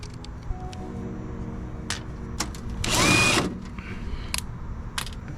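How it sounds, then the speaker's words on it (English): A power drill or driver whirs for about half a second while a screw is backed out on a 2022-or-newer Subaru WRX, set among scattered clicks and handling noises. "I'm gonna unscrew this"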